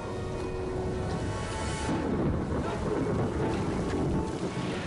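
A heavy rainstorm pours over a dam and its reservoir as a dense, steady roaring wash with a deep underlying rumble, unbroken for the whole stretch.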